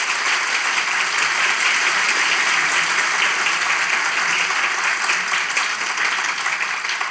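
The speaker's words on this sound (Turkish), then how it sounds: "ilişki testi alkışlarla başlıyor" Loud, sustained applause from a large studio audience opening a Turkish talk show, steady and continuous throughout with no pauses.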